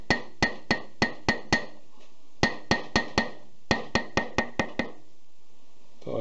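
A hammer taps on the wheel bearing hub of a Harbor Freight trailer, giving sharp metallic knocks in quick clusters of five or six, close and clear with short pauses between groups.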